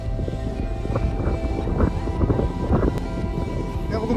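Strong wind at a tall hilltop watch tower, a continuous loud rumble buffeting the microphone for the whole stretch, with gusty swells and no clear voices.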